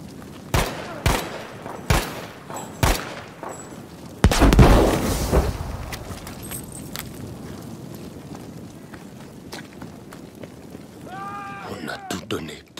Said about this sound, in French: Canon!